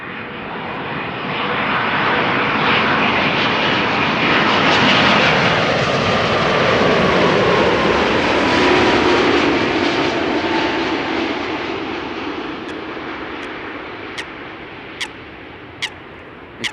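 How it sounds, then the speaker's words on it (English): A KLM Boeing 787-10 Dreamliner arriving at Amsterdam Schiphol from Cartagena, Colombia, passes with a loud, broad engine roar that swells, holds, then slowly fades, ending with a few faint clicks. "Next, arrival for Cartagena in Colombia. 787-10 Dreamliner."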